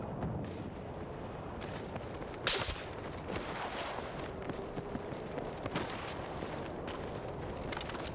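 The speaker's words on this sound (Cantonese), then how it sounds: "開咗槍啦，咁我又開槍。" Gunfire in the shooter game Battlefield 6: a dense, continuous crackle of shots and battle noise runs throughout, with one sharp louder burst near the middle, no clear speech.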